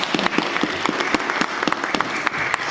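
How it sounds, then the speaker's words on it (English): An audience applauds the speakers at a public debate, a room full of hands clapping with distinct sharp individual claps standing out, steady and fairly close throughout. "A round of applause for them"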